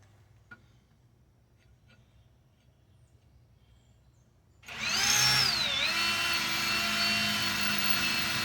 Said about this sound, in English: I'm going to have to drill another hole over here.